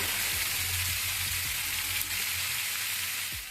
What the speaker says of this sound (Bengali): একইভাবে সব চিকেন আমি ভেজে নেব